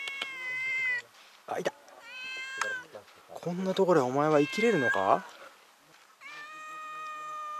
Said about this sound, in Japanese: 猫が鳴いてるんですよね。